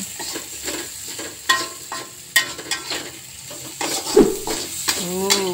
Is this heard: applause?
no